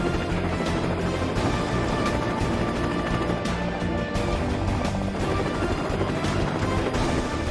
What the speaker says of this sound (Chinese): 直升飞机已经穿越了我们前方的这座高塔，目前正在稳稳地准备降落在我们的场地中心。